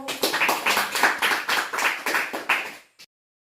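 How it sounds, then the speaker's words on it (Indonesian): An audience at a health counselling session on chronic obstructive pulmonary disease claps in a series of rhythmic, fairly loud surges for about three seconds, ending abruptly with one final clap. "Sebelumnya berikan tepuk tangan dulu Bapak Ibu"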